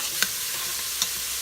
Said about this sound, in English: So I'm going to saute this for a minute.